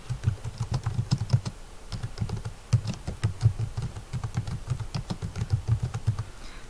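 Someone types on a computer keyboard, with rapid bursts of close, crisp key clicks separated by short pauses and no talking.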